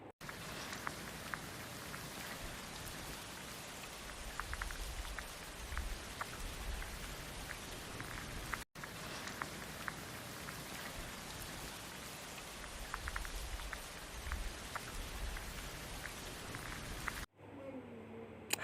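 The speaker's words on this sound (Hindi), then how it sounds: "मुल्तान में फिर से बारिश स्टार्ट हो गई थी" Steady rain falls in Multan, Pakistan, a dense, continuous patter of drops on surfaces, moderately loud and unbroken, with a brief cut near the middle and a different quieter sound at the very end.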